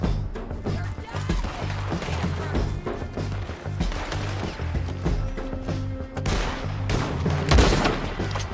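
Gunfire rattles through a Red Dead Redemption 2 firefight, with repeated shots and a continuous volley crackling over a low ambient hum, loud and close.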